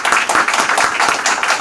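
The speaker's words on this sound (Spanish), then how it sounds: "quiero que le demos un fuerte aplauso" Brief burst of audience clapping at a football book launch, dense and loud, honoring a young player, lasting under two seconds without any voices.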